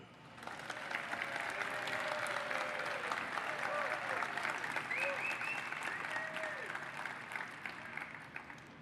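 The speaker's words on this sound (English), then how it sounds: "I'm not sure that was adequate applause from the council." A crowd at the annual State of Metro address in Nashville applauds steadily and fairly loudly for the vice mayor, with voices and cheers mixed into the clapping throughout.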